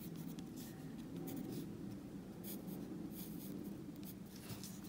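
A pencil sketches short little lines on paper for a fall tire swing watercolor drawing, a steady close scratching that runs with small pauses between strokes, with no voices over it.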